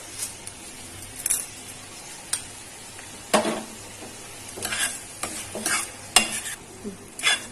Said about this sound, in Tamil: போட்டு நல்லா கிளறிடலாம்.